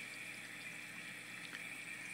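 Steady trickling and splashing from a small plant-covered waterfall in a home aquarium, a continuous close wash of water with no voices.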